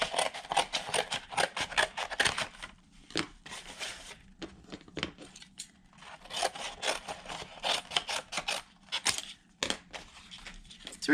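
A cardboard box is cut apart with scissors for miniature sled runners, giving bursts of crisp snipping and crunching cardboard close up, with short pauses between the runs of cuts.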